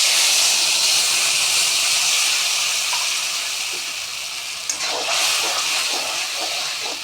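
Tomato paste hits a hot pan with a loud, bright hissing sizzle that surges, then slowly settles while a few crackles and spatters break through near the end.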